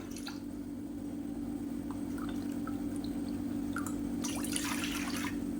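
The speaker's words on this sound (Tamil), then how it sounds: "இப்போ அதே கடாயில் மெஷரிங் கப்பில் ரெண்டு கப் அளவுக்கு தண்ணி சேர்த்துக்கலாம்" About two measuring cups of water are poured into a kadai while making aval sweet pongal; soft drips and splashes sit over a steady kitchen hum, with a louder burst of pouring near the end.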